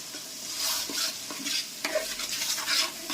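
Tomatoes stirred into a pan of hot spices, chili, cinnamon, cloves and star anise, for pav bhaji: a spoon scrapes and knocks against the pan in a loose rhythm over a soft, constant sizzle, close and with no talking.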